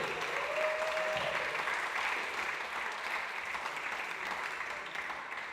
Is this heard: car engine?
no